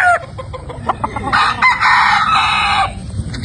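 A sweater gamefowl rooster crows in one long, loud, drawn-out call, with shorter clucks and other fowl sounds scattered around it in a busy farmyard setting.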